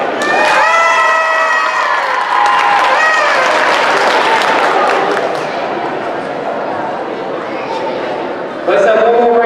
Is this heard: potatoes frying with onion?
no